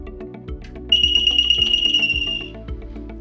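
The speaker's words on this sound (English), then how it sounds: "It'll immediately go into alarm." A pivot irrigation control panel sounds its seal fail alarm, a loud piercing electronic tone held steadily for about a second and a half, with clicks and mechanical rattles in the background.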